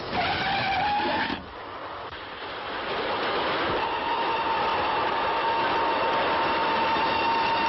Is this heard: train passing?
yes